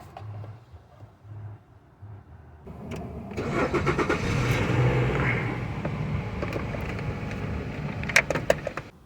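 A Nissan Rogue with a 2.5 engine starts and runs close by, a quiet idle giving way to a fuller steady hum, with some clicks and knocks near the end.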